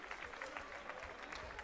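A crowd at a women's amateur boxing event claps after the end of a round, a dense patter of applause heard at a distance with faint voices underneath.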